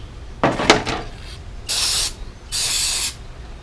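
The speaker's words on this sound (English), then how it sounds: "we're just going to use a little bit of brake cleaner and a brass wire brush" Aerosol brake cleaner sprayed onto soft aluminum carburetor parts, with a brass wire brush scrubbing them: a few short scrubbing scratches, then two long hissing spray bursts, close by with no talking.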